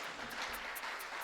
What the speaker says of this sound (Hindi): क्यों तालियां भी इतनी अच्छी बजाते हो,